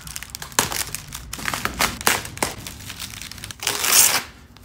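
Bubble wrap around a gloss black spoiler for a 2019 Mustang GT is torn and crumpled open up close, with loud, irregular crackling and ripping bursts and a longer crinkling tear near the end.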